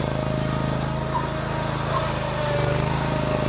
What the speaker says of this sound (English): The Hustler lawnmower that I have is called the Raptor SD.